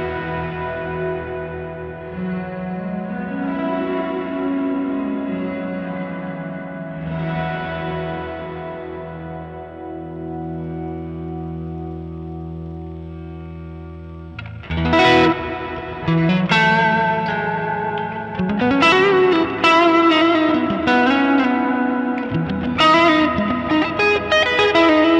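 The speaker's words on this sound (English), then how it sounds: "I'm just going to crank it all the way up so you can hear just the reverb." An electric guitar runs through a Sonicake Matribox multi-effects pedal with reverb cranked fully up. Sustained chords ring out into long washy trails, then a busier passage of plucked notes follows, each swelling into dense, lingering ambience, loud and alone.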